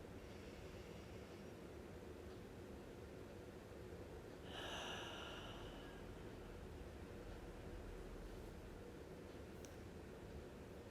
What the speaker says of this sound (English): One more time, breathing in through your nose.